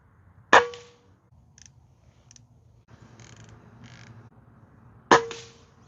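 A Benjamin Marauder air rifle fires, giving two sharp cracks with metallic ringing a few seconds apart, close by, with soft handling noise in between.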